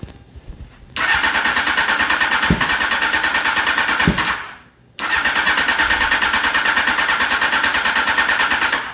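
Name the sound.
custom ATC600R engine cold starting with choke on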